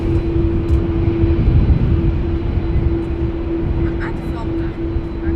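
A jet airliner departing at Amsterdam Schiphol Airport, a steady low engine roar with a constant tone, distant and continuous with no voices.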